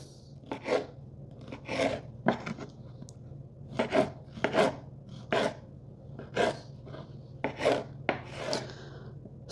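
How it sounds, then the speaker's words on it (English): Serrated knife sawing through tomatoes on a board, about a dozen short rasping chops in an uneven rhythm, close and clear over a faint background hum, with no talking. "For chopping up tomatoes, I always prefer a serrated knife."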